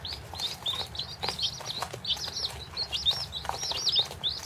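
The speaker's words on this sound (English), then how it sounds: "These are my little chicks that I got as pets in the egg layers for me." Baby chicks kept as pets and future egg layers chirp continuously in high, rapid peeps, several birds overlapping at close range, with faint rustling of feed underneath.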